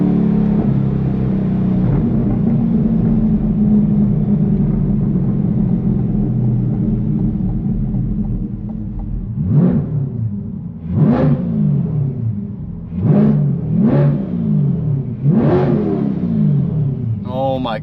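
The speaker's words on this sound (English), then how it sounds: "Obviously, it sounds way different with the titanium exhaust." A Corvette C8 fitted with a titanium exhaust holds a steady, deep, loud rumble, then fires off five sharp throttle blips, each rising and falling quickly.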